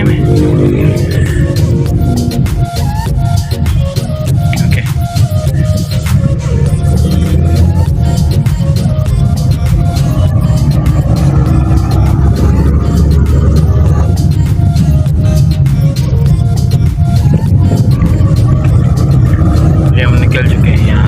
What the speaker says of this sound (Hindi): गाड़ी की स्पीड बढ़ रही है